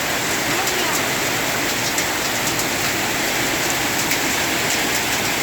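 Steady, heavy rain pouring continuously, a dense hiss that fills the whole clip without letup.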